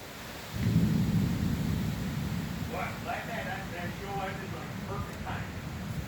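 Thunder rolls in during a summer storm, a deep rumble swelling in after a quiet start and lingering at moderate distance, while people talk casually over it.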